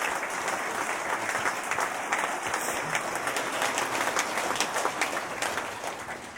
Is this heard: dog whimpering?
no